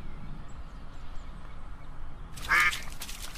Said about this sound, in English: That duck's disciplining the fuck out of its kid.